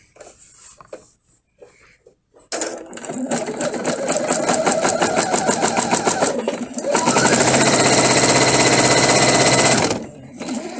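A sewing machine stitching quilt fabric for a flying geese block, with quiet handling at first, then a rapid steady mechanical chatter of close stitching that speeds up and runs loud before stopping abruptly.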